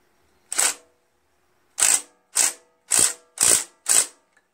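A wrench ratchets against a bolt on a Briggs 16.5 HP engine being fitted to a Poulan lawn tractor: a single click, a pause, then five more sharp, close mechanical clicks in steady rhythm, alone and without talk.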